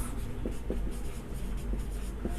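Chalk writes chemical formulas on a board in a chemistry lesson on aldehydes and ketones, a quick series of short scratchy taps and strokes over low room hum.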